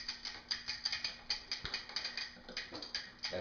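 A ratchet tool tightens the bolts on a SRAM Red bicycle crankset, making quick, crisp, evenly spaced clicks close by.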